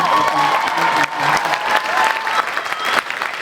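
An indoor audience bursts into sustained applause with scattered cheers and whoops, dense clapping throughout, while a voice speaks over it.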